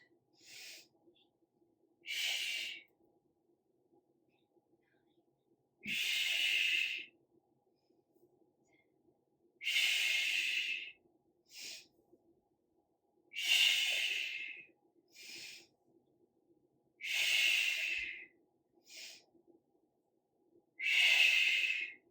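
Forceful exhalations during an at-home bicep and tricep workout, a regular series of loud, close breaths roughly every two seconds with quiet gaps between, no talking.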